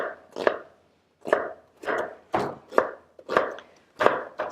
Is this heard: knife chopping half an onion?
yes